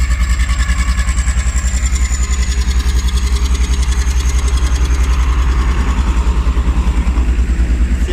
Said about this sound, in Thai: เสียงเครื่องเหมือนสูบสูบซิ่งเลย